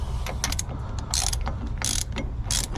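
A ratchet clicks in quick, repeated strokes as it tightens the wheel bearing nut on a Series 1 Holden Commodore, close and clear, with short pauses between bursts and no talk.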